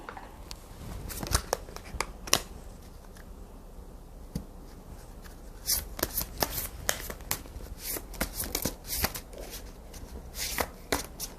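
Tarot cards are shuffled and drawn in a run of crisp, papery riffles and flicks, with bursts of sharp card snaps clustering irregularly, close and fairly quiet, with no voice over them.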